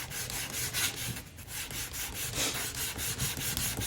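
Steady back-and-forth sanding of a loaded leather strop with 220 grit sandpaper, a close, continuous rhythmic scratching rub with regular strokes and no talking.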